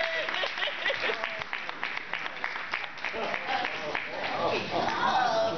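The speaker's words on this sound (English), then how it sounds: "Let's give a big round of applause" Audience at an award dinner breaks into applause, dense clapping throughout with voices talking and calling out over it, growing livelier near the end.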